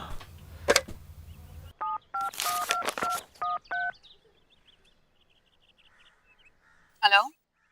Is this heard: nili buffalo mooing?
no